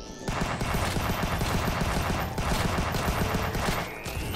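Rapid, continuous gunfire in the video game Huntdown, a dense unbroken rattle of shots lasting about four seconds, loud and close, with no talking.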